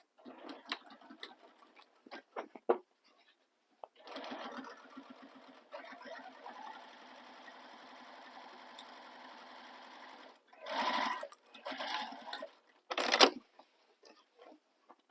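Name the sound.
sewing machine top stitching a crossbody bag base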